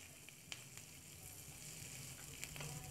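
Vegetables fry with onions in a pan, giving a faint, steady sizzle with a few light clicks, heard from a moderate distance with no speech.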